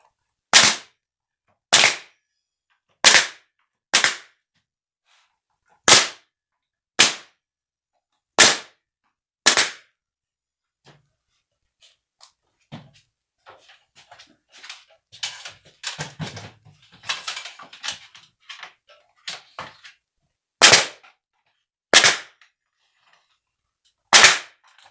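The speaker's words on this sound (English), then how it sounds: "So what I want to do is I want to go ahead and nail this in." A pneumatic nail gun fires sharp, loud shots into a rustic faux ceiling beam, eight evenly spaced bangs, a stretch of quieter clatter and handling, then three more shots.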